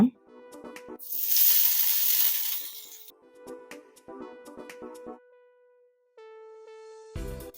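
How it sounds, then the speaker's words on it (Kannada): Curry leaves dropped into hot oil for an egg fry give a loud, bright hiss that bursts up and holds for about two seconds, then fades into scattered crackles and the clinks of a utensil against the pan. "ಎಣ್ಣೆ ಬಿಸಿಯಾಗಿದೆ ಇದಕ್ಕೆ ಕರ್ಬೇವು ಸೊಪ್ಪು ಹಾಕೋಣ"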